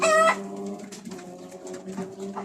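Chickens and a rooster in a coop at a home in Riyadh, one loud close call at the start, then softer intermittent clucks over a steady low hum.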